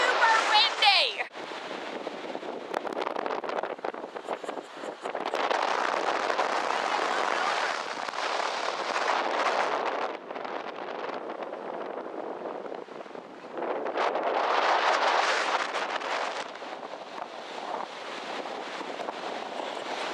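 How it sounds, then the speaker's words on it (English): Strong coastal wind buffets the microphone near Giant's Causeway in Ireland during rain, loud roaring gusts that swell and ease in waves across the whole stretch. "It's raining too much. Bye! You probably can't hear this at all, but it's super windy!"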